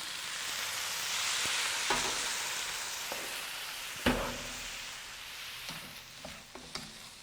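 Fresh sausage cooking in a pan with a splash of vegetable broth gives a steady broad sizzle, with occasional sharp clicks and knocks of a utensil stirring it, alone and fairly quiet.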